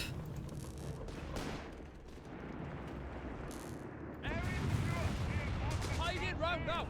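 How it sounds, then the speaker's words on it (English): Artillery fire in Company of Heroes 3 during a match with Panther and Crusader tanks, a rolling barrage of heavy booms and crackling blasts that grows louder partway through, with a commentator talking over it. "More artillery fire here."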